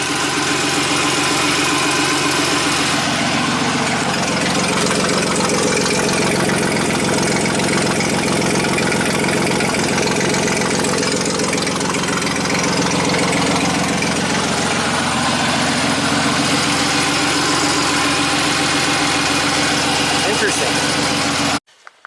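A 1990 Buick Regal V6 with a severe low-power fault idles steadily and loudly close by for about twenty seconds, a smooth, even rumble that cuts off abruptly at the end.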